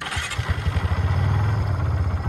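A Kawasaki Barako 3 motorcycle engine catches and settles into a steady, close, loud idle with a throbbing rhythmic pulse after its ECU reset.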